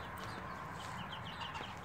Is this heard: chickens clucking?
yes